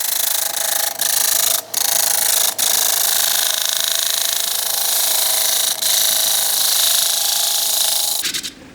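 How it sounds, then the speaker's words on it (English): A 12 mm half-inch bowl gouge cutting a closed-form wooden bowl on a lathe gives a steady, loud hissing shear that runs almost unbroken for eight seconds, with a few brief dips as the tool lifts, then stops abruptly. "I'm just going to use a little 12 mil 1/2 inch bowl gouge"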